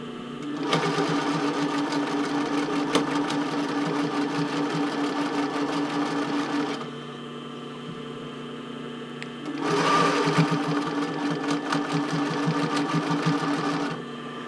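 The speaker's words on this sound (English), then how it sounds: "I'm going to try and sew to the edge of not sewing the picot, but right next to the picot" A sewing machine stitches the elastic band of a Porcelynne Eve Classic bra, running just beside the decorative picot edge. Two long, loud, close runs of steady motor whir are separated by a brief quieter pause.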